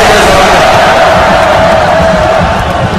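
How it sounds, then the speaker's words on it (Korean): Large crowd of some 5,300 people cheering and applauding at a party founding convention in Jangchung Arena, a dense, loud, continuous roar with a sustained tone running through it. "그분들에게 힘찬 나라의 박수를 보내주시기 바랍니다."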